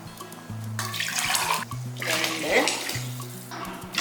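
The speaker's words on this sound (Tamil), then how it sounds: "ஒரு கப்புக்கு மூணு கப் அளவுக்கு தண்ணி ஊற்றுங்க" Water splashes and runs steadily into a cooking pot for cowpea rice, a hollow rushing pour that swells and eases, with background music playing throughout.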